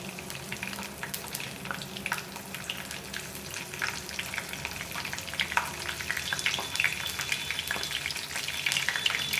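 Cumin seeds, a piece of cinnamon stick and chopped green chillies fry in hot oil for chicken sherva, a close, constant sizzle with dense crackling pops throughout and no voices.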